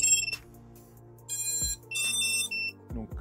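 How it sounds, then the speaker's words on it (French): The ESCs of a 5-inch FPV drone beeping on power-up, several short electronic beeps and tonal chirps in quick sequence, with pauses between them and a low hum underneath. "Vous avez entendu, les ESC, ils ont tous bipé."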